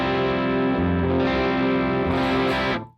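Electric guitar strummed through a Helix AC30 amp model on the normal channel with a little drive, one loud ringing chord sustaining and shifting for about three seconds before cutting off, with no talk.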